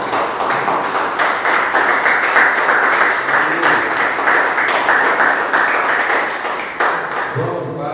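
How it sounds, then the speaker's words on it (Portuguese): A church congregation applauding at the end of a service, a sustained, even wash of many hands clapping for several seconds, loud and close, with a faint voice briefly underneath as it fades near the end. "Vamos aplaudir o Senhor Jesus."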